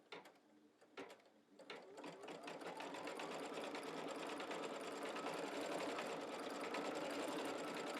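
Embroidery sewing machine running a wing needle, a steady fast mechanical stitching rattle that starts after a few sparse clicks and then continues loud and even to the end.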